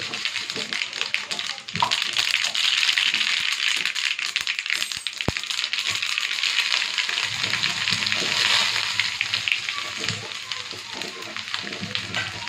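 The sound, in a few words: sesame seeds sizzling in tempering oil for rava dhokla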